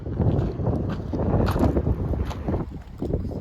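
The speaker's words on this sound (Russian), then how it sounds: "Не знаю, ветер, слышно меня или нет" Wind blows outdoors near a river, rumbling steadily and buffeting the microphone throughout with uneven gusts.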